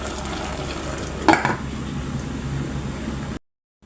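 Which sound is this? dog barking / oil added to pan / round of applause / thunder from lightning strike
oil added to pan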